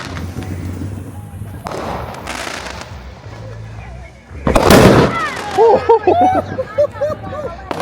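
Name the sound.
firecracker exploding during 4th of July fireworks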